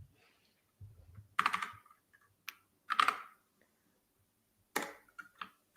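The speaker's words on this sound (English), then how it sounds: "Just thinking as I'm typing here." Typing on a computer keyboard, heard as a few short, scattered bursts of clicks separated by quiet gaps, close and fairly faint.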